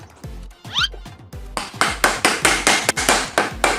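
Sharp hammer blows on a PVC pipe fitting, a quick series of about a dozen close, loud knocks, faster and harder in the second half.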